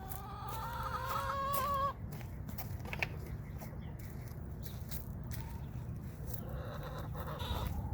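Barred Rock hens cluck in a coop, a few clear drawn-out calls at the start, then a steady low murmur of clucking under broad background noise.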